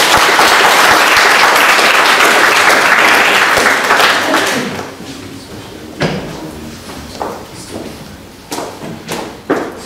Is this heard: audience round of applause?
yes